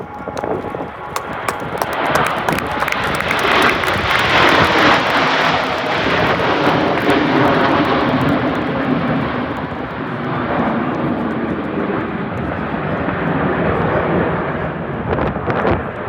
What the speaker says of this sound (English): The landing runway will be the number 24, so why not reach it with one more looping